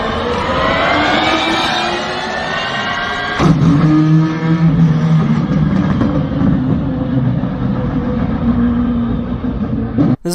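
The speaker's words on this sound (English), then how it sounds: "Here's what it sounds like to switch from an electric motor to a combustion engine in the same car." A hybrid car changes from its electric motor to its combustion engine: a rising high whine gives way at about three seconds to a loud, steady engine drone that holds near and alone to the end.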